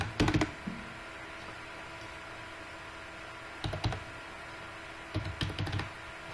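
Bursts of typing on a computer keyboard as a ration card number is entered, three short clusters of quick clicks with quiet pauses between, close and fairly faint.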